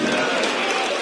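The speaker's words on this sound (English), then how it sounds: "you do get a round of applause" Dense, steady crowd noise at a darts match, a broad wash of clapping and murmur from the spectators that holds at even loudness throughout with no clear gaps.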